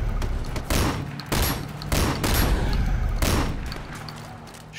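Shotgun blasts in the action video game Sleeping Dogs during a vehicle chase, four loud, booming shots spaced about a second apart, each with a brief decaying tail.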